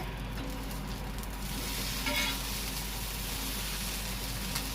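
Chicken dosa sizzling steadily on a hot pan just after being flipped, a continuous close hiss of frying batter with no talk.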